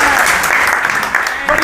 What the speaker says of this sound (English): Lift a clap of hands.